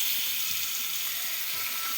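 Food pieces fry on a hot tava griddle, a steady bright sizzle and crackle heard up close with no talking.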